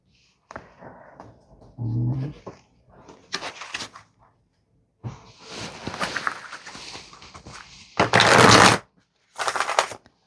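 Tarot cards are shuffled in several quick riffling bursts separated by pauses, close and crisp, the last bursts loudest.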